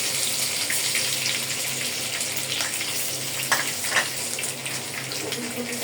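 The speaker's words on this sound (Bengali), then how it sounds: "রসুন কুচিটাকে আমি ভালো করে ভেজে নিব।" Chopped garlic frying in a wok reused from frying chicken, a steady hissing sizzle with a few sharper crackles and pops near the end, close and without talk.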